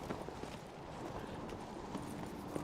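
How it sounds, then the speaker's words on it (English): Horse hooves and agitated neighing in The Witcher 3 video game come through as a steady clip-clop of hooves under a faint, dense background, quiet and somewhat distant. "I came back because of that horse shouting."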